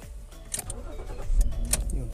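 A car engine cranks and catches, settling into a low idle rumble inside the vehicle, with faint clicks and jingles from the cabin.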